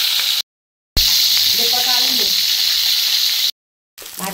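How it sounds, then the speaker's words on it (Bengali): Fish dropped into hot oil in a kadai, a bright continuous sizzle with short breaks, and a voice speaking briefly beneath it. "এখন আমি কড়াইতে মাছটা দিয়ে দিচ্ছি"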